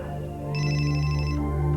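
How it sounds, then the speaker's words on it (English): A telephone rings nearby with a bright electronic trill that starts about half a second in and holds for nearly a second, over a steady low hum and background music. "For instance, when the phone rings,"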